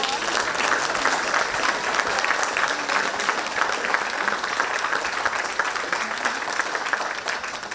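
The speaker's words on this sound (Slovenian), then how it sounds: "zato si zasluži res en velik aplavz" An audience at an anniversary celebration of an adult education institution in Radovljica applauds loudly and steadily, a dense, continuous wash of many clapping hands filling the whole stretch.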